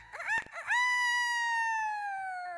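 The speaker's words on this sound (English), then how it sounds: "One day this rooster came in our yard" A rooster crows once, close and loud, a long harmonic-rich call that rises and holds steadily for about two seconds, with a faint low background beneath.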